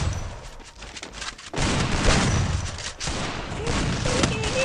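Gunfire from the video game Garena Free Fire, dense rapid bursts of shots that keep going throughout, loud and close, with a brief lull before a heavier stretch of firing.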